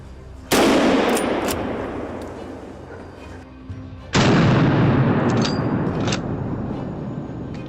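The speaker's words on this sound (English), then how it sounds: "My hand tightened on the trigger, and the bullet flew." Two loud rifle gunshots fired while hunting wild boar in a forest, each a sharp blast followed by a long rolling echo, spaced about three and a half seconds apart, with no talking.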